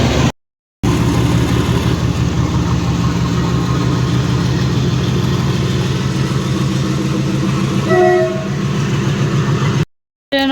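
A train rolls through Dibrugarh railway station with steady, loud rumbling and clatter of wheels over rails, a brief horn-like tone rising near the end before the sound cuts out.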